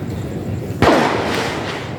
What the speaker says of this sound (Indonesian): berselang 10 menit ada suara-suara petasan lagi di sana teman-teman